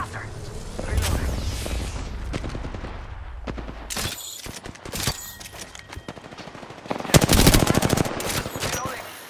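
Heavy gunfire in Apex Legends arena combat: rapid automatic bursts and single shots crackle loudly in clusters, with a dense barrage near the end, mixed with game effects and voices talking at times.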